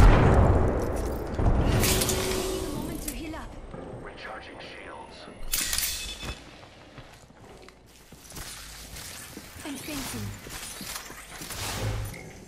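A grenade is thrown and explodes in a shooter video game. Two loud bursts stand out amid mechanical clicks and clatter, with in-game voices in the background.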